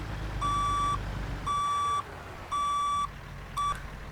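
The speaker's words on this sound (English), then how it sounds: "the freaking backup beeper is so loud" The reversing beeper on a Skot A2HD truck in American Truck Simulator sounds four loud, shrill electronic tones at roughly one-second intervals, the last one shorter, over a low engine rumble.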